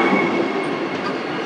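The Chennai–Vijayawada Vande Bharat train rolls along with a steady, loud rumble of wheels and carriage noise, heard close up and without talk.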